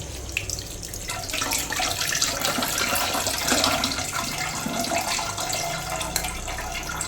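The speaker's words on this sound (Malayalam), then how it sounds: "നമുക്ക് ഇത്തിരി തണുത്ത വെള്ളം കൂടി ഒഴിച്ചു കൊടുക്കാം ചെറുതായിട്ട്" Cold water poured into a pot while making Kerala-style pineapple payasam, a steady running, splashing pour heard close and continuous without talk.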